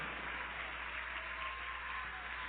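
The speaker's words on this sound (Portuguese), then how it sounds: "E vamos aplaudir mais o Senhor Jesus por todas essas vidas que estão chegando." Church congregation applauding during an evangelical service, a steady, even wash of clapping held at the same level throughout, fairly soft and distant, with no voices on top.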